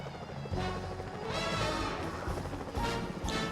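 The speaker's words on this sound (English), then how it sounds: "Those security choppers are bad news." Security helicopters in the video game Sly Cooper: Thieves in Time, a loud, dense mechanical din with heavy crashing, thudding bursts layered over a continuous whirring roar throughout.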